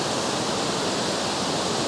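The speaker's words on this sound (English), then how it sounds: "35 feet above the rushing water below, directly below" Waterfall heard from about 35 feet above, its rushing water a loud, steady, broadband roar that continues without a break.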